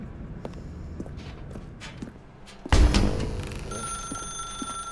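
A telephone in The Stanley Parable video game rings in the second half with a bright, sustained electronic tone after a loud thump, preceded by soft footsteps.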